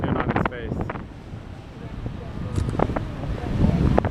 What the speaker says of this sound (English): this wind is blowing